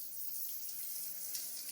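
Water lightly splashing in a bath in a visual novel game, a faint, steady hiss of trickling water heard alone and quietly for a moment.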